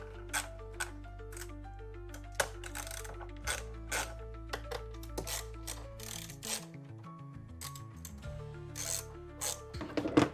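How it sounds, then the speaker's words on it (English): A ratchet wrench loosens the two 8mm clamp bolts on the thermostat housing of a 2005-2014 V6 Ford Mustang, giving quick, crisp clicking bursts close by with short pauses between them, alone without talk. "we just have to loosen these two 8mm bolts on these clamps"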